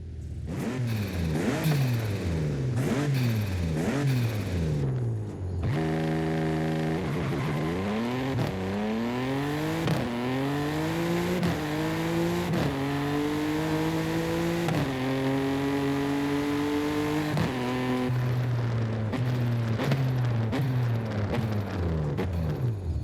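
Several cars rev hard in a Forza Horizon 5 race, engines climbing through rising gear pitches with shifts between, loud and continuous, with sharper revving bursts at the start and end.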